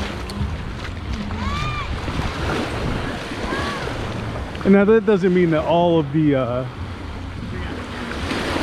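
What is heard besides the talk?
rough waves on Negril Seven Mile Beach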